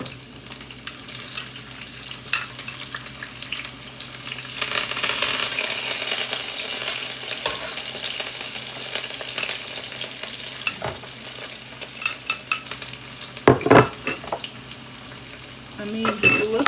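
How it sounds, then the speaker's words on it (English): Onions go into a hot pot and sizzle and fry steadily, with stirring, a spoon scraping and clinking against the pot, and a few louder knocks near the end, with no voices. "I'm gonna go ahead and put my onions in."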